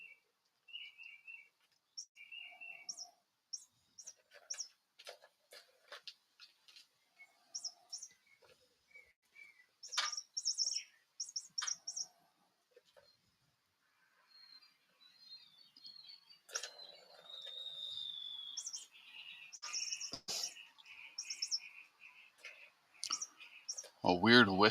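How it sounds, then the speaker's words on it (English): Faint, scattered bird chirps and tweets in the background, brief high calls repeating irregularly alongside occasional clicks and quiet talk. "And then there's a bird in the background"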